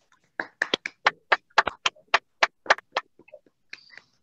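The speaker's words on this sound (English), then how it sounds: "Can we have a big round of applause," Hands clapping at a book launch, a dozen or so sharp, separate claps at a brisk even pace from only a few people, fading out with scattered last claps.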